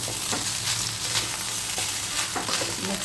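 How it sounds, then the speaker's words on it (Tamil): Cooked rice is stirred into a hot tempering of dried red chillies in a pan, giving a steady, close sizzle broken by repeated scraping strokes of a spoon, with no talking. "இந்த மாதிரி தாளிப்போட சாதத்தை போட்டு நல்லா மிக்ஸ் பண்ணிக்கிட்டு"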